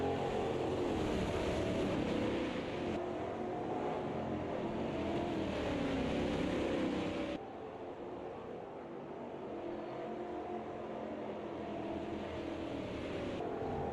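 V8 stock cars racing at Bathurst in the Automobilista 2 sim, a steady dense engine roar throughout that drops to a slightly quieter, more distant drone partway through as the view shifts, with no talking.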